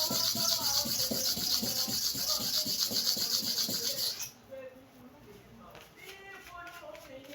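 Hair clipper blade being honed at a 45-degree angle on a sharpening stone, with loud, rhythmic rasping strokes for about four seconds that then stop, followed by quieter sounds and a voice talking.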